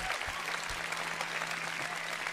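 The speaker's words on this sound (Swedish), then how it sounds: "Applåder!" Big, steady applause from an outdoor sing-along crowd at a summer concert, a continuous wash of clapping with a low hum underneath.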